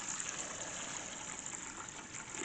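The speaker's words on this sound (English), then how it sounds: "Okay, put your liquids in. 2 cups each, water and vinegar, twice" Water and vinegar being poured into a pot for a double batch of pickled beets, a steady broad rushing splash of liquid that continues without a break, fairly quiet and with no talking.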